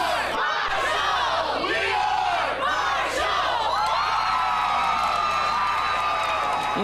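A packed stadium of football fans at a college game, Marshall Thundering Herd supporters, roar a rallying chant in loud, rhythmic call-and-response waves that stay dense and continuous throughout.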